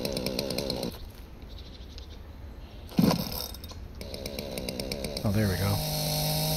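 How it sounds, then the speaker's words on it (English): Chainsaw cutting through a log in a dinosaur fossil-hunting game, a steady mechanical engine drone that swells into a louder revving whine near the end, with someone talking over it. "apparently you're supposed to get out a chainsaw"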